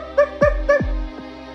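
A pug character barks in the Poppy Playtime Chapter 2 video game, three or four loud, close yelps with falling pitch in quick succession, the last one fainter.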